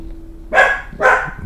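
A dog in the horror video game MADiSON gives two loud, close barks about half a second apart, with no talk over them.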